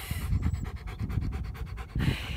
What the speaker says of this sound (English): he's huffing and puffing so hard